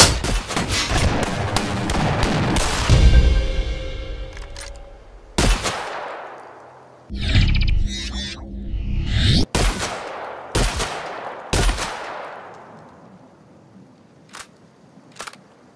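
Shotgun blasts from a first-person shooter RPG, The Outer Worlds: several loud, booming shots spaced a second or two apart, each followed by a decaying tail and mechanical reload clicks, with no voices.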